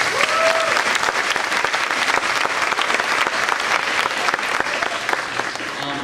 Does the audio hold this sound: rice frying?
no